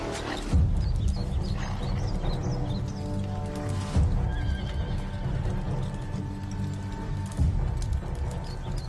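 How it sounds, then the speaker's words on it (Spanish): Horses neigh and whinny with clip-clopping hooves on a battlefield at the time of Spartacus's revolt against Crassus, with repeated neighs over a dense steady background. "Trae mi caballo."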